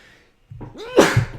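A single sharp human sneeze with a brief rising intake before it, close and fairly loud, following a short stretch of near silence.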